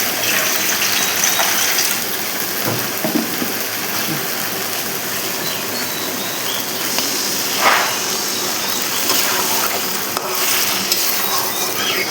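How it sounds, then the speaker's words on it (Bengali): Water gushes and splashes continuously into a bowl of fried, half-cooked potatoes for an egg and potato curry, a steady close pour with small clinks, and no one speaks. "এই যে গামলাটার মধ্যে যেহেতু আলুটা তুলে রেখেছিলাম, তার মধ্যেই জলটা দেবো।"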